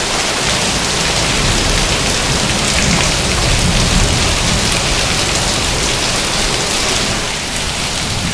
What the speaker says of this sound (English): Okay, this is some rain.